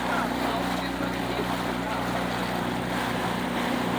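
A small Zodiac inflatable motorboat heads into a snorkeling cove in the Exumas, its outboard engine running as a steady, continuous drone mixed with wind and water noise throughout.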